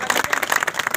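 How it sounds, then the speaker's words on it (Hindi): A crowd claps at a Bahujan Samaj Party blood donation event held in Azamgarh for Mayawati's birthday, a brief burst of loud, close, busy applause. "बजाय तालियां आप लोग"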